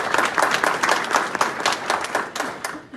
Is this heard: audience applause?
yes